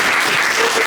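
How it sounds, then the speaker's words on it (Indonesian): Classroom applause from students after a lesson, a dense burst of clapping filling the whole short moment, steady and fairly loud with no talking. "mari kita beri aplaus kepada kita semua"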